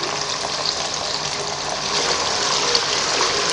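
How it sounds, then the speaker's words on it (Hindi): Pieces of taro root fry in hot oil with a dense, steady sizzle. The crackle is close and continuous, grows slightly louder partway through, and no one speaks. "3 से 4 मिनट के लिए हम इसे फ्राई कर लेंगे"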